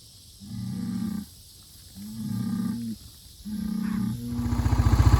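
Cattle lowing in a pasture at night, three long, close moos with short pauses between them, then a deeper rising bellow that swells at the end.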